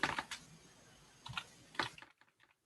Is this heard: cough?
no